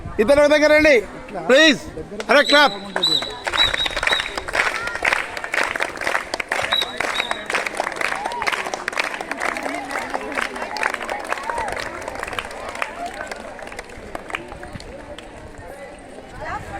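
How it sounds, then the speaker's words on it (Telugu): Students clap as they bid farewell to a teacher, a crowd of close, quick, uneven claps. Voices call out at the start, and the applause goes on steadily before gradually thinning and fading. "Clap, clap, clap."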